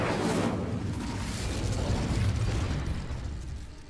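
A burst of flame from the Incendio fire spell in Hogwarts Legacy, a dense, loud whooshing rumble that swells and then fades over a few seconds, with no voice over it.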